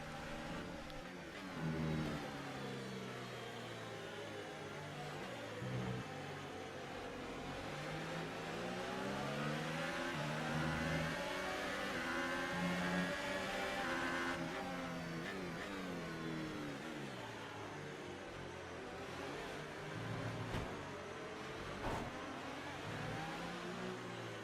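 Racing cars at the race start in the F1 2018 video game, a dense pack of engines revving and accelerating together, loud and continuous with shifting pitch as cars jostle through the opening corners.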